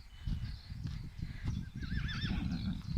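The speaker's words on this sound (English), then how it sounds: "I've come to see the horses again" A horse on a farm gives a clear, wavering whinny up close, backed by snorting, shuffling and a few hoof clops.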